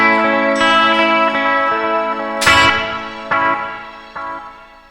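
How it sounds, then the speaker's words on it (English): An electric guitar plays through the analog delay of a Nux Trident multi-effects processor, with loud strummed chords and single hits followed by repeats that smear and fade slowly, each new attack cutting in over the dying echoes. "the analog delay here is nice also because when it dies out, it basically gives you a little bit of a deterioration in the repeat"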